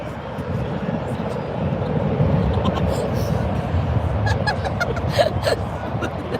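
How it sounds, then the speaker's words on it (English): A loud airplane flying low overhead at an outdoor quadball showcase game, a steady broad engine roar filling the whole stretch while people talk and laugh faintly beneath it. "That loud noise is an airplane."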